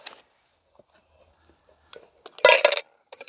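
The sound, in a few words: camping stove dropped into metal kettle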